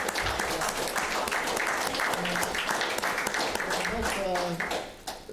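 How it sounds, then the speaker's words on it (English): Attendees at an affordable housing trust meeting give a round of applause, a steady patter of clapping from a modest group with voices mixed in, tapering off at the end. "this is a moment that deserves a round of applause for everyone getting us here"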